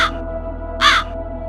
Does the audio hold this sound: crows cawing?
yes